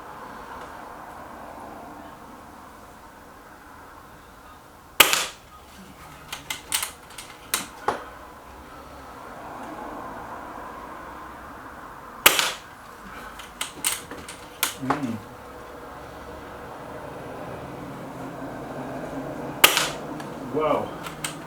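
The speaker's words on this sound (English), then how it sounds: "those 5 shots, everyone in the bullseye" A Stoeger XM1 bullpup air rifle fires pellets, three sharp cracks spaced several seconds apart, each trailed by quieter pellet-strike clicks and handling rattles over low room hum, with occasional soft talk.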